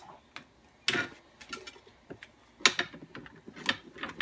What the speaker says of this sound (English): Now you just want to go back and clip all your zip ties